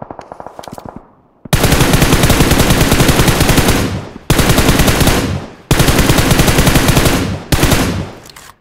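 Automatic gunfire from the mobile battle royale game BGMI, played on a Samsung phone, rattles out in three long sustained bursts after a brief quieter stretch, loud and close with short pauses between volleys.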